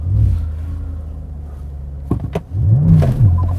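A BMW M5 or Porsche Panamera GTS engine idles with a low, near rumble, a short pair of sharp mechanical clicks, then a brief rev that rises and falls before settling back to a deep drone.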